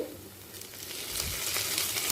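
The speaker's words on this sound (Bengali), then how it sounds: "দুটো বড় সাইজের পেঁয়াজকে কুচিয়ে নিয়ে তেলের সাথে হালকা লাল করে ভেজে নেব" Two large chopped onions frying in oil until lightly browned make a soft, steady sizzle with faint crackle and occasional stirring, close but fairly quiet, no voices.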